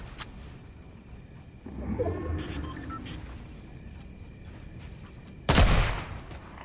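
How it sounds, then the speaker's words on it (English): Fortnite gunfire rings out in a game match, a faint early shot, a burst of rumbling noise, then one sharp loud blast near the end over a quiet background. "Oh, they're getting shot at."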